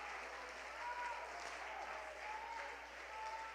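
Congregation in a church applauding continuously, a steady wash of many hands clapping at moderate distance with no individual claps standing out, faint and even throughout.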